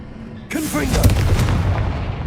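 Confringo blasting spell firing in Hogwarts Legacy, a sudden loud boom that rolls into a crackling, rumbling burst and lingers as a sustained roar, with a voice calling out over the blast.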